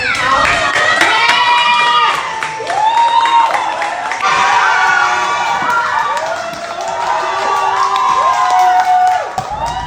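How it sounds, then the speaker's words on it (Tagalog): A loud indoor crowd of Filipino fans at a watch party for a tennis championship match, cheering and shouting excitedly with clapping mixed in, the roar swelling and dipping continuously. "Walang tigil sa hiyawan at palakpakan ang fans"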